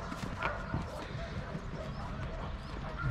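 Horse hooves clip-clop on the ground at an animal rescue haven in Paphos, Cyprus, a steady walking rhythm heard fairly close amid outdoor background noise.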